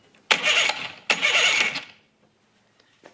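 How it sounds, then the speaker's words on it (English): A push-button starter cranks a boat engine fitted with an electric choke. There are two short, loud cranking bursts, each under a second, separated by a brief gap, then near silence with a few faint clicks. "Located right here is the push button start on the engine."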